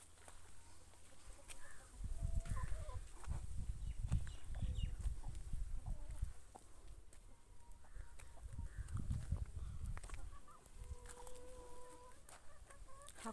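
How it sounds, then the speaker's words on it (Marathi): A rooster clucks in short, scattered bursts amid low rustling and thumping outdoors in a village garden, fairly faint. "कोंबडा आहे"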